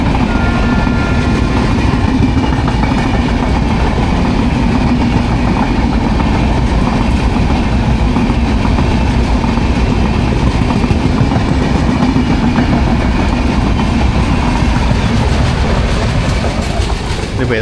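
The Gandhidham–Tirunelveli Humsafar Express runs along the rails, heard from inside the moving train as a loud, continuous rumble with clickety-clack from the wheels that holds steady throughout.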